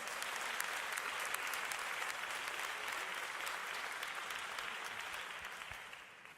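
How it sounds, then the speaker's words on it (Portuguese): A church congregation applauding at a Sunday service, a steady dense wash of clapping that carries on throughout and tapers slightly at the end. "Você quer aplaudir ao Senhor?"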